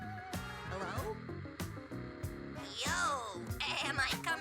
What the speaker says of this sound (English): I did not expect the robot sheep to sound like this.